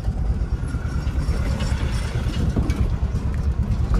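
An overloaded goods truck arrives along a rough gravel road, its heavy engine rumbling loud and steady in the foreground throughout, with road noise and no talking.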